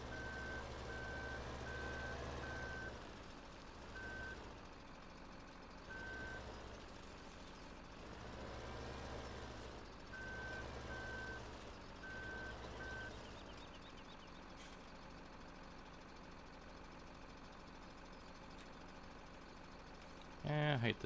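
Log skidder in Farming Simulator 17 reversing, its repeating backup beeps sounding over a steady loud diesel engine drone, with a rising rev near the end.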